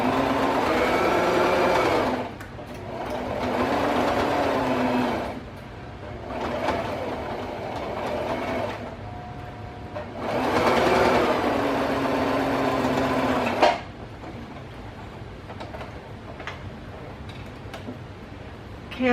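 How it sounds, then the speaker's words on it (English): A sewing machine stitches the sides of a fabric face mask in several runs of steady, rapid whirring, each lasting a few seconds, separated by quieter pauses with faint handling noise. "let me go ahead and sew this up, and I think I'm just going to sew them up on the sides"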